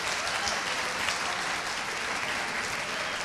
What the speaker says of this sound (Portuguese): Queremos recebê-lo com uma salva de palmas.